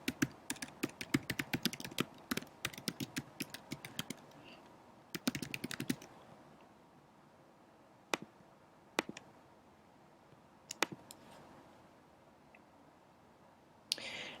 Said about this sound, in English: I'm going to type in my email that I used